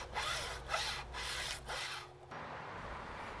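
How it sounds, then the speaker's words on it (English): A Shinto saw rasp shapes the wooden neck of a cigar box guitar in four coarse, scraping strokes, close and rhythmic, each a short rasping rub with a pause between, then quiet. "I used a Shinto saw rasp to shape the neck"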